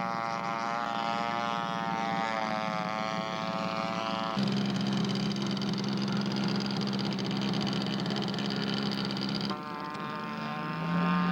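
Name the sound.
scale model P-47 aircraft coming in to land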